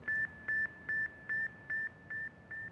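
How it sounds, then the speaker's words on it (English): The Sputnik satellite radio signal: a steady series of short, high electronic beeps repeats about twice per second, thin and chirp-like, fading slightly over time. "I could hear this little chirping sound, more like a cricket chirping than it was"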